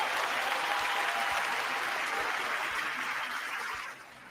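A crowd applauds at a political speech: dense, steady clapping that holds evenly, then thins and drops away near the end.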